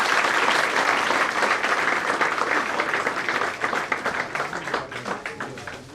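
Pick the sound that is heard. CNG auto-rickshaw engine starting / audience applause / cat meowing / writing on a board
audience applause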